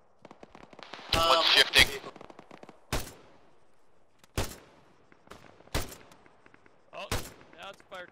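Bursts of automatic gunfire in an Arma military game, a dense volley followed by several sharp separate shots spaced a second or so apart, loud and close, with a voice speaking briefly between them.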